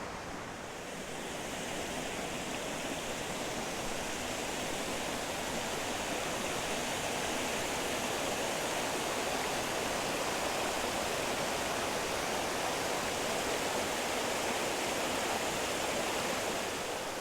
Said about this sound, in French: on va voir encore toute une série de petites cascades